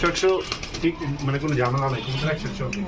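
Large pigeons at a pigeon market coo in low, repeated throaty calls through the whole stretch, close by, with someone talking over them throughout.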